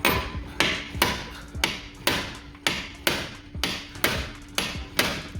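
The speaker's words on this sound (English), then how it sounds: "we've got the slide hammer on there." A slide hammer knocks on the rear axle of a 2008 Toyota Yaris during removal, delivering about eleven sharp metallic blows in a steady rhythm roughly every half second, close and loud.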